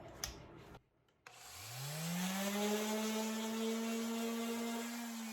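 A power sander starts up after a brief pause and runs with a steady, rising motor whine, sanding resin-coated artwork, holding loud and close to the end.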